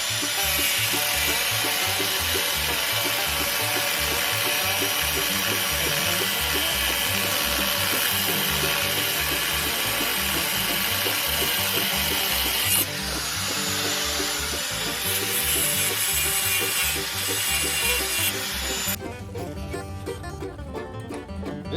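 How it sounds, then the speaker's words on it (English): A Harbor Freight Hercules grinder runs steadily and loudly for the whole stretch, used during front brake work on a Ford F600 truck, with a harsh grinding rasp that shifts in tone partway through. "Harbor Freight Hercules is the best grinder I got."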